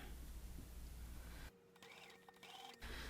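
A sewing machine stitches a quilt block along a corner, its rapid mechanical whirr running for just over a second at moderate volume between stretches of room tone.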